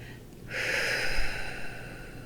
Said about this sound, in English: completely releasing that breath